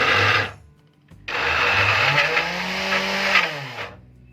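An electric grinder churns a beef and lentil shami kebab mixture in loud, steady bursts, a short run, a brief pause, then a longer grind with the motor pitch sliding and dropping before it cuts off.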